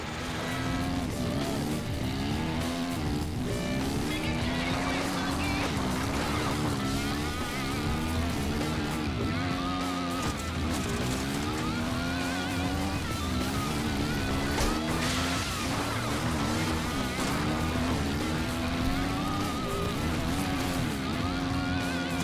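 ATVs race around a circuit in a video game, with dense, continuous engine whine and revving that rises and falls in pitch, loud and unbroken throughout.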